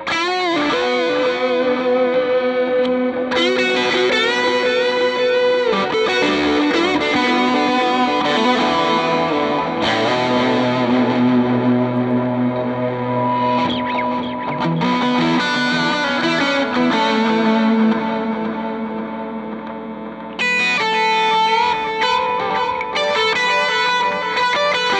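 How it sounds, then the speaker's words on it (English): Electric guitar played through a Boss Procarat distortion pedal, thick sustained chords ringing loud and saturated, shifting through several changes. "Let's go to the Procarat for some distortion sound."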